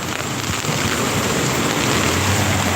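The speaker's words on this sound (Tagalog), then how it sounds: "Humina po yung ulan kaya sisilip tayo." Heavy typhoon rain pours down outside, a dense, steady roaring hiss of rain on surfaces that holds at constant loudness throughout, with no voices.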